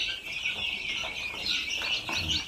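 Newly hatched chicks cheep in a dense, continuous high chorus of overlapping peeps, close and steady throughout, with no talking.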